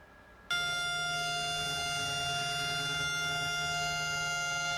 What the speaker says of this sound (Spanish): El sonido de una sirena rompió el silencio cerca de la casa del primer ministro israelí Benjamín Netanyahu